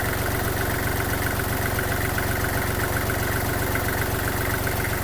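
A warmed-up Kubota GL-29 mini tractor diesel engine idles steadily up close, with a constant low, even chugging throughout.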